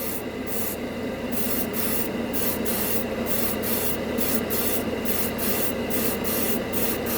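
Steady hiss of an airbrush spraying yellow paint over red primer, broken into regular short bursts as the trigger is pressed and released, close and continuous.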